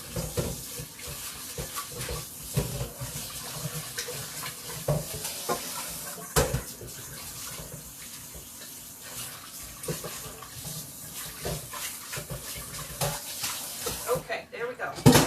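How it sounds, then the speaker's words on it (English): A mixer beater is rinsed under a running kitchen tap, water splashing steadily and loudly up close with shifting clatters as it moves under the stream, while a person talks over it. "So let me just rinse this real quick here."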